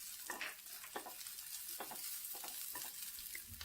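Onion and green chillies fry in mustard oil with a steady broadband sizzle while a spoon stirs them, giving repeated scraping strokes roughly every half second, close and moderately loud, with no voices.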